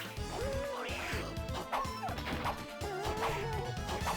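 Kerberos, a dog in Castlevania: Dawn of Sorrow, barks and yips repeatedly in quick bursts amid loud game music and crashing hits, with no one talking.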